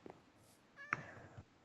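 Cats meowing in the Minecraft video game, a short pair of game meows with a clear higher call near the middle, fairly quiet over a low background.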